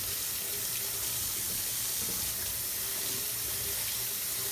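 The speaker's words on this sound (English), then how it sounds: "run some warm water" Warm water pours steadily from a kitchen tap into a sink, a continuous close hiss and splash with no pauses and no talk.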